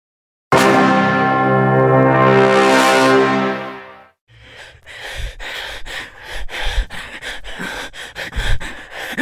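A ringing tonal sweep fades out, then heavy, uneven breaths and gasps follow, close and fairly loud, with no talking.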